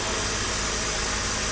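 Small Tata Ace mini truck sits with its engine idling, a steady low mechanical hum and vibration that runs unbroken and fairly close, with no talk over it.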